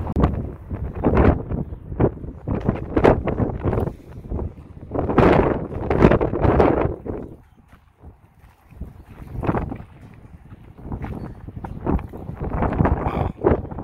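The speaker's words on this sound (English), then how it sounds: "Wind is really kicking." Strong outdoor wind gusts buffet the microphone in loud, rumbling surges that rise and fall, with a brief lull midway, recorded on a drive around Albuquerque.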